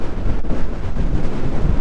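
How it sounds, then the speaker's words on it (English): Strong wind buffeting a microphone outdoors while riding an electric unicycle, a loud continuous low rumble and roar with no pause. "That is darn windy"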